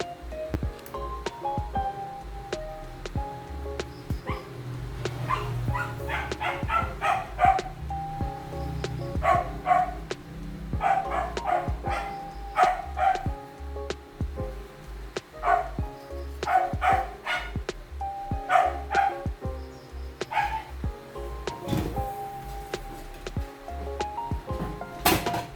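Pet dogs bark repeatedly in bursts, loud and close, with short yips between barks against a quiet home background.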